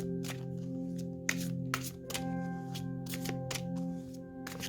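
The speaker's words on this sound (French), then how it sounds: "Alors, je vais mélanger, nous tirer une petite carte." A deck of oracle cards is shuffled by hand in a series of quick, crisp riffling bursts, about six or seven of them, close up over a low steady background hum.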